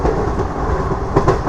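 The Seven Hills SF Express from Tirupati rolls along with a steady, close rumble and faint clattering wheel beats, alone without talk.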